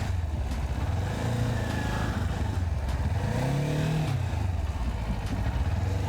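A Kawasaki Ninja 400 motorcycle engine runs loud and close, rising once in a brief rev before settling back to a steady rumble.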